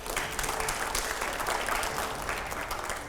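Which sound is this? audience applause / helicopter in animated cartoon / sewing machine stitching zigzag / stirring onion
audience applause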